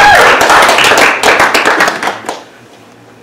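An audience at a District 4 community meeting claps, loud and close, a dense round of hand claps that thins into scattered individual claps and fades to quiet after about two and a half seconds.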